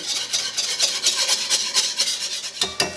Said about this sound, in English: And at this point, I would add a whisk and whisk that in.